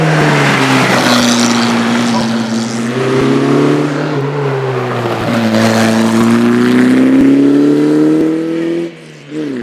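A Lotus 51A hillclimb race car, a hybrid running earlier bodywork on a later chassis, roars loudly and close through sustained high revs with rising and falling gear pitches, a brief dip near the end before the engine picks up again.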